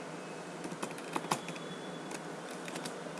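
Quick, light key taps on a computer keyboard while entering data in Tally Prime accounting software, a scattered run of close, crisp clicks with a couple of sharper strokes, no voice.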